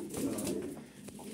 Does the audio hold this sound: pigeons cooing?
yes